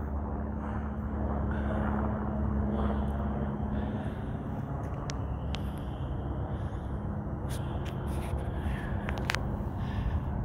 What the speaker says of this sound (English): I cannot see it, but there's an airplane out there somewhere.